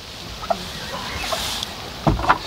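A hen with her young chicks makes a few scattered soft clucks and short calls over a low outdoor background hiss, with a slightly louder pair of calls near the end.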